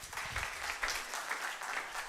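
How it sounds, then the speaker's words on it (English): A conference audience at an emergency medicine gathering claps for the departing National Ambulance Service chief executive, a faint, steady patter of applause heard from a distance, with no voices over it. "I think a round of applause for him"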